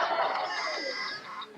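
Ricky the rooster, a toy, gives one drawn-out crow that is close and clear, rising then trailing off, with no talk over it.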